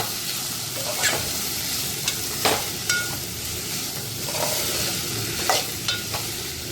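Cluster beans, already boiled, sizzle in oil while a spatula stirs and scrapes the pan in irregular strokes over a steady hiss, close up and without speech.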